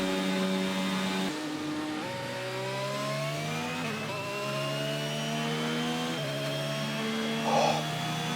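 Racing car engine in F1 22 with gearbox problems, a continuous loud buzzing drone whose pitch drops abruptly then climbs and wavers several times, heard alone without talk.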